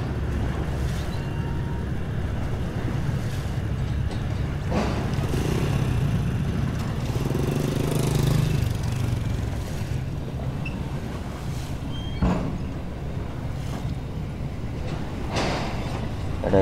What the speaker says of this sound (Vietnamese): Đây mấy chiếc ghe, chiếc xuồng nhỏ nhỏ chạy ngang tàu container